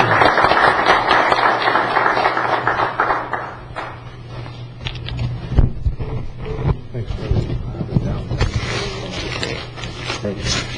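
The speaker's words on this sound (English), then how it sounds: "How about a round of applause?" At a county board meeting, a crowd claps loudly for a plaque presentation, a dense burst that thins into scattered claps as voices talk over it.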